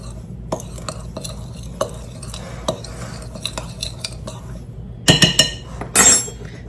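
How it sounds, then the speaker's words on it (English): Dry baking ingredients with baking powder stirred in a bowl, giving soft repeated scrapes and light taps of a utensil against the side, followed near the end by a few louder clinks. "And just give that a quick little stir."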